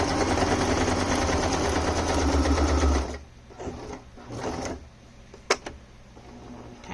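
A sewing machine stitches paper journal cards and tag pockets with a steady, close, rapid mechanical whir for about three seconds, then stops, leaving soft handling noises and a sharp tap.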